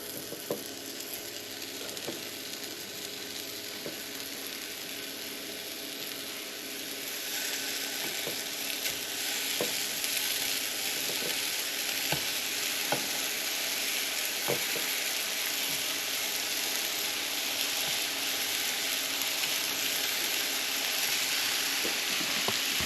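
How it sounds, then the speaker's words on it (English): Steady sizzle of meatballs frying in a pan fills the clip, a dense hiss with scattered small pops and crackles, growing slightly louder partway through, with no talking. "you can hear them sizzling away"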